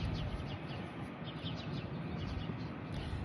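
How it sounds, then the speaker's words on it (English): Birds chirp in quick scattered bursts outdoors, partly buried under a steady wash of broad background noise. "I'm getting to hear the birds."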